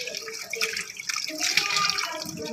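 Cut potatoes being washed in water, steady splashing and sloshing close by with running-water hiss, continuous throughout.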